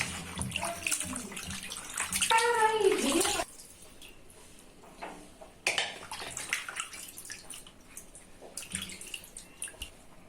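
Ground spices and duck meat being washed under running water for a Khulna-style chui jhal duck curry, with splashing and dripping in irregular bursts, a louder gush early on and quieter trickles and splashes afterward.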